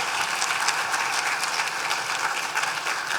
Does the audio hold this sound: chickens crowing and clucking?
no